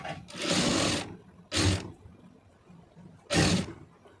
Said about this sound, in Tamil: இப்போ இதில் அப்படியே வச்சு தையல் போட்டுடலாம்